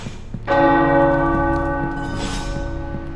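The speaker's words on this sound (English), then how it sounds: "The tower bells are ringing." Tower church bells ring in the Marvel's Midnight Suns video game, one loud resonant strike with a rich ringing tone that hangs and slowly fades, joined by a second softer strike, with no talk.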